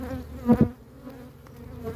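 Honeybees buzz steadily around a hive as the colony is shaken from an old hive into a new one during a transfer, the swarm-prone colony's droning rising in a brief louder swell near the start, with no voices.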